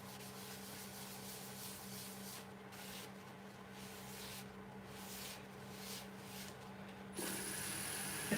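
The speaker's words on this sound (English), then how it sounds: "Hand applying some Yorkshire grit," Steady hand rubbing of super-fine Yorkshire Grit polishing compound onto metal, a continuous soft abrasive swishing at even loudness throughout, getting a little brighter and louder near the end.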